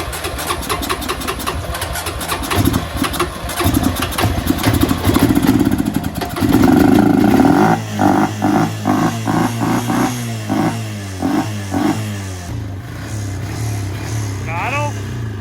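A Honda Rancher ATV engine cranks, catches and settles into a steady, fairly loud idle with uneven rumbling pulses, while voices talk over it.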